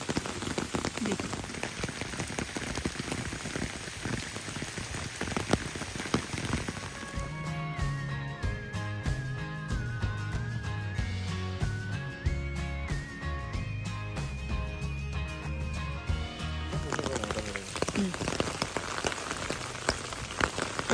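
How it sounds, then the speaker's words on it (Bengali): Rain falling steadily in a mossy forest in Cameron Highlands, Malaysia, a dense, even patter close by. A stretch of music covers it in the middle before the rain returns alone. "আর এখন তো বৃষ্টি পড়ছে"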